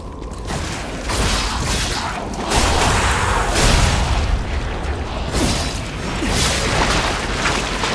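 Explosions and booms in the video game Lies of P, with dense, rumbling blasts that keep rolling one into another at close range without a break.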